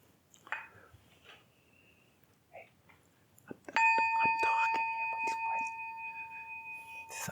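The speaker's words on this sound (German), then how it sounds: "She's doing this bell thing." A small bell is struck once and rings on with a clear, sustained metallic tone that slowly fades, after a few quiet knocks and rustles in a calm room.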